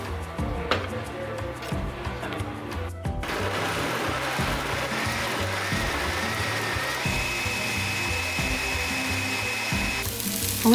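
Blender running steadily on guajillo chiles, onion, garlic and cooking water for a salsa, a continuous whirring motor that holds loud and even, with a brief dip and restart partway through.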